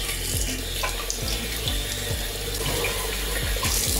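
Tap water pours steadily into a sink to rinse and filter thawed bloodworms for betta fish, a loud, close, continuous splashing rush with no talking.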